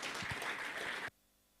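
A church congregation applauds as a singing group is welcomed at a Sunday service, with dense steady clapping for about a second that then cuts off abruptly to near silence.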